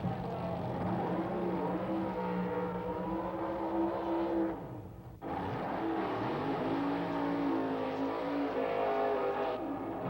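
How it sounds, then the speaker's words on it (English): Supercharged, fuel-injected Chevy-powered Wild Bunch drag racing cars, including a Camaro, roar through a pair of burnouts. The loud, sustained engine howl dips briefly midway, then surges back at full volume. "What a pair of wild burnouts by these crazy Wild Bunch cars."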